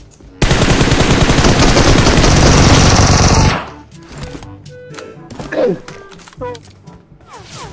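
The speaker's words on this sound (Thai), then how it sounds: "เหมือนมันยิงอยู่นะ" Sustained automatic gunfire in the mobile battle-royale game PUBG Mobile, a loud, dense burst of rapid shots lasting about three seconds, then quieter scattered game sounds and clatter.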